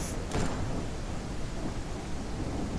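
Loud, steady downpour of heavy rain in the survival game No One Survived, a dense continuous wash with a faint rumble underneath and one brief swell near the start, no talking.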